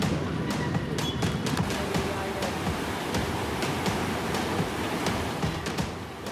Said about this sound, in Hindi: नदी नाले उफान पर हैं।